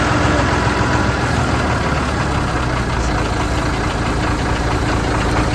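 A truck engine runs steadily while the truck reverses to park, giving a loud, continuous diesel-like drone with a faint knocking texture and no pauses.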